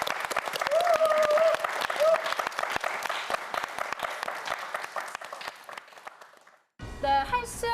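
Studio audience on a YTN quiz show applauds four student contestants with dense, steady clapping for about six seconds before it fades out and music begins.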